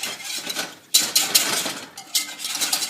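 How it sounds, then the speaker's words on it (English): A whisk clatters and scrapes against a metal pot as a liquid mixture for Gujarati kadhi heats, with irregular metallic clinks and rattles that grow brisker after the first second. "just bring it up to a heat and just keep on whisking so there's no lumps that are formed"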